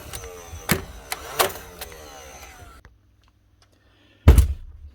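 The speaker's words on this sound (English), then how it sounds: "You can only plunge it on and pull the trigger to shoot one nail at a time." A Stanley Fatmax DIY nail gun in single-shot mode, just repaired after failing to fire nails, shoots one nail: a sharp, loud, close thunk stands alone after a hush, with earlier lighter clacks over a steady mechanical hum.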